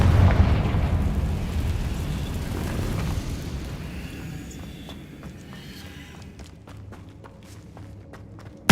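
Confringo blasting spell in Hogwarts Legacy going off as a loud rumbling fiery blast that decays over several seconds into faint crackling debris, ending with a sharp pop.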